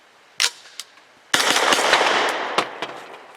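A Grand Power Stribog fires PPU 158 grain subsonic full metal jacket rounds, giving a couple of sharp suppressed cracks followed by a longer burst of rapid shots and a few trailing reports, close and fairly soft.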